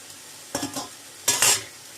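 Pork with a pinch of salt stirred in a hot pan for a stir-fry with mushrooms, two short bursts of scraping and sizzling close by, separated by a brief pause.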